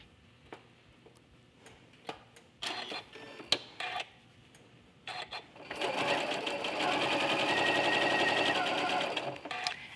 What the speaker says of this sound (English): we're going to test our presser foot pressure by feeding it across the quilting